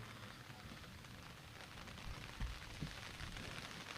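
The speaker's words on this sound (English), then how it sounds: "So rain's starting to come under our tent." Rain falling on a tent at an outdoor youth baseball championship, a very faint, steady hiss of drops with a couple of soft low thumps near the end, heard alone and distant.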